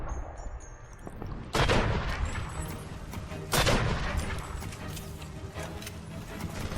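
Gunfire in the video game Dead to Rights: Retribution, two heavy bursts of shots cracking out about two seconds apart over a constant rumbling game background.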